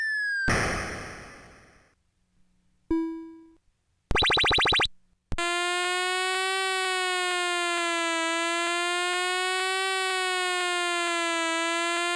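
Commodore 64 SID chip effects sound in sequence, a hiss burst, short blips and a buzzy tone, before a loud sustained electronic siren wails with a steady wavering pitch to the end.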